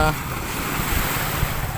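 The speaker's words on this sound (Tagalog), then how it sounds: "malakas ang hampas ang alon dito" Waves hitting a seawall on Laguna Bay: continuous rushing surf and wind roar close by, a broad churning wash of water with no clear breaks between waves.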